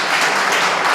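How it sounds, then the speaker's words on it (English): A gathered audience at a charity cup launch event claps for each other in a brief, loud, even wash of applause with no gaps. "let's all have a round of applause for each other."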